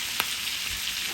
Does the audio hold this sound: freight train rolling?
no